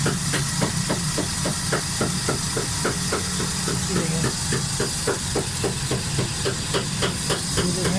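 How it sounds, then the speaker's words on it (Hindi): Suzuki Alto 1000cc car engine with a fuel fault runs roughly and shakes, giving a loud, fast, rhythmic ticking over a hissing mechanical drone, with some talk in the background. "पूरा इंजन काम रहा है, पूरा इंजन कांपना शुरू हो गया।"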